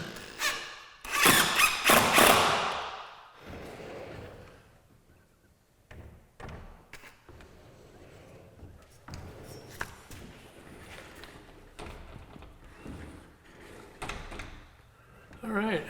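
Pocket doors in a soundproof room slide along their track and shut, with a loud burst of rolling and bumping near the start, then lighter knocks, thuds and a few squeaks spread across the rest.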